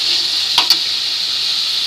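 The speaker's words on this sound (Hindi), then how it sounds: "अब इसको हल्का सा 2 से 3 सेकंड के लिए फ्राई कर लेते हैं" Chicken pieces frying briefly in a pan give a bright, steady hiss of sizzling oil, with a couple of quick clinks of a utensil near the start.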